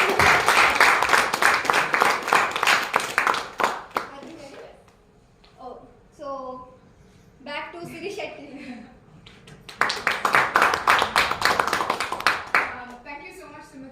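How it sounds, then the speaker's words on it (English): An audience at a speakers forum session claps in two dense, sustained bursts, one at the start and one later, with a person talking between them. "So let us clap for ourselves"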